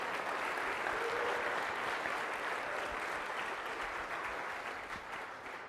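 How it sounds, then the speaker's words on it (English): Conference audience applause, dense steady clapping from a crowd that holds strong for several seconds and gradually tapers toward the end, with no voices over it. "let's give the organizers a round of applause"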